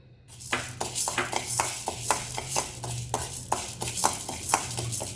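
Urad dal tipped into a hot wok, a quick scatter of dry grains followed by repeated crisp clinks and scrapes of a spoon stirring against the metal, close and clear.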